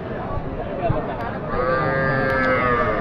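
Low background noise at a cattle market gives way to a long, loud cow moo starting midway and holding to the end, close by.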